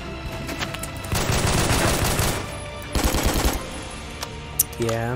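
A weak gun in a first-person shooter fires in rapid automatic bursts, one long burst followed by a shorter one, then a few single shots, loud and close.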